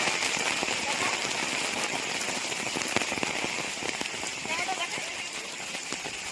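Heavy monsoon rain pours over a village where ponds are overflowing and roads are flooded, making a dense, steady hiss of close drops with scattered sharper pattering hits throughout.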